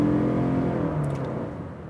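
Toyota Crown Signia 2025 hybrid wagon with a 2.5-liter 4-cylinder engine, droning steadily from inside the cabin under acceleration, fairly loud and slowly fading.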